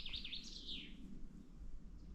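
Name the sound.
chaffinch song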